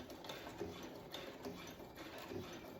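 A Brother sewing machine stitches across a corner, a faint, close mechanical clatter of needle and gears running at an even pace for a few seconds.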